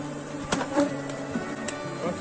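A honeybee swarm in a hive box at an apiary gives a steady, soft buzzing drone close by, with a few louder individual bees passing near, no talk.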